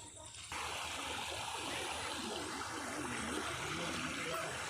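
Floodwater pours over waterlogged fields near a river, a continuous rushing and trickling flow that stays loud and steady after a short, quieter start.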